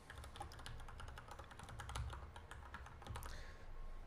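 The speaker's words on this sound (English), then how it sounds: "and type in a name" Rapid typing on a computer keyboard while entering a name, with a steady run of close, crisp key clicks over about four seconds and no talking.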